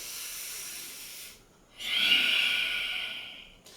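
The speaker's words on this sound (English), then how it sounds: "how that hissing noise comes when he breathes out" Hissing exhalation from a man during meditation breathing practice, a steady airy rush that fades, pauses, then returns louder and sustained, close and alone.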